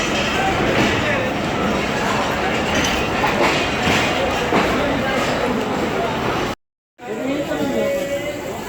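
Sukkur Express passenger train running between Rohri and Karachi, a loud continuous rumble and rattle heard from inside a coach, with voices chattering over it and a brief cut near the end.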